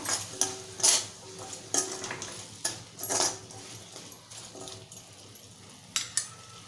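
Spatula scraping and clinking against a pan while stirring capsicum and potato sabzi after salt goes in, in irregular close taps and scrapes with a soft sizzle underneath.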